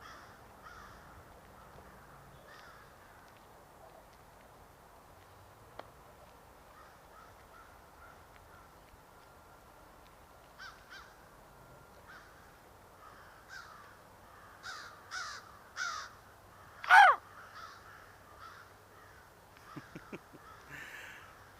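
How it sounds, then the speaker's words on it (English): Crows caw near a cemetery, several scattered calls in the distance at first, then a cluster of louder, closer caws toward the end over a quiet outdoor background. "I usually feed crows when I see them."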